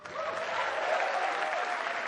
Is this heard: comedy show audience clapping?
yes